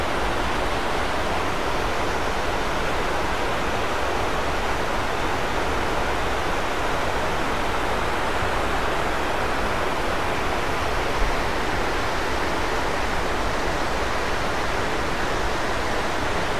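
A waterfall rushes nearby in a natural setting, a dense, unbroken roar of falling water holding steady and fairly loud for the whole stretch, with no voices.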